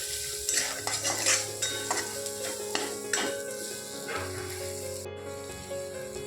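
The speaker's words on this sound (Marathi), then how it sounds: "हे सर्व साहित्य एकजीव करून घेऊया" A spoon stirs turmeric, coriander powder, red chili powder and onion-garlic masala together with vegetables in a pan for veg pulao, giving repeated metallic scrapes and clinks over a faint sizzle, with no speech.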